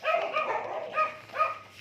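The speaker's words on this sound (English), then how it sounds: "There's also a dog here." A dog barks in a few short bursts at close range outdoors after dark, the yelps rising and falling over a faint low background hum.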